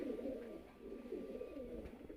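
Punjabi Malvai pigeons coo softly and continuously in a low, rolling murmur, faint and close, with no other sounds present.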